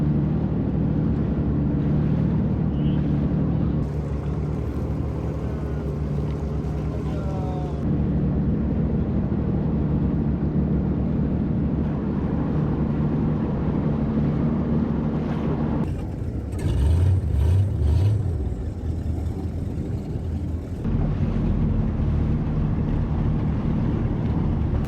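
Personal watercraft such as a WaveRunner riding across Great Sacandaga Lake, a steady loud engine drone with wind buffeting and water splash throughout, briefly surging louder near the middle of the ride.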